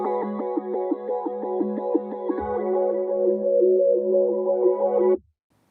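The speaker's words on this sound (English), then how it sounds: "how to make self-arpeggiating pads in Serum and Massive X using the Flanger effect" A self-arpeggiating synth pad built with a flanger effect in Serum and Massive X plays stepped, pulsing harmonic tones in a rapid rhythmic pattern, clear and alone, then cuts off abruptly near the end.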